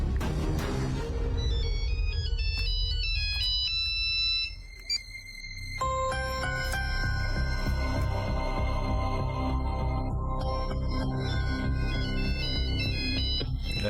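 An electronic phone ringtone plays loudly and continuously as a bright, repeating multi-tone melody with a steady beat, dropping out briefly midway before resuming.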